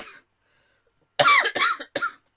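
A short burst of three dry coughs, close and loud, follows a brief moment of near silence.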